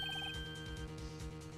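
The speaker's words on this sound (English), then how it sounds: "I heard a phone ring just now." In the Phoenix Wright courtroom video game, a telephone ringtone chirps in a quick run of electronic beeps at the start, fairly faint over steady background game music.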